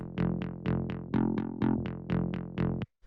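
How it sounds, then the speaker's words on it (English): Plain saw-wave synthesizer bass with no FM layers, playing about eleven evenly spaced plucked notes, each with a bright attack that decays quickly, close and loud, before stopping abruptly near the end. "it's a lot more like straightforward saw wave."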